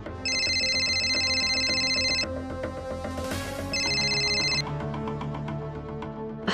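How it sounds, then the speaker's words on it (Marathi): A telephone rings indoors in a Marathi TV serial scene. There are two loud electronic ringtone bursts with a short pause between them, over a low background, and no speech. "माया फोन उचल यार"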